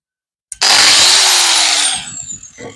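A powerful power sander starts abruptly and grinds loudly against the body of a 1997 Mercedes Sprinter van, holding a harsh steady whine for over a second before winding down with a few scraping bumps.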